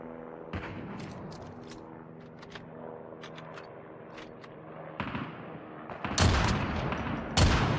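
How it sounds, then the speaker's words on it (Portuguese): Rapid bursts of video game gunfire in Call of Duty Mobile crackle continuously at a moderate distance, growing louder with a few sharp, close shots near the end. "É muito tiro, velho."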